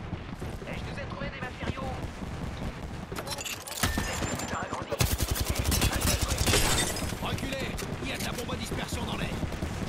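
A cluster bomb deployed in the shooter Apex Legends, setting off a dense burst of rapid overlapping blasts and crackling impacts in the middle of the clip, with gunfire and a voice talking around it.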